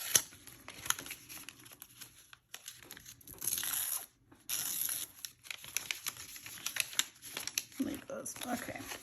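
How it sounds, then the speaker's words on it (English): Paper booklets being ripped by hand for a Valentine file folder folio craft, bursts of tearing and crinkling in several short stretches, close up, with a voice talking at points. "Let's rip here."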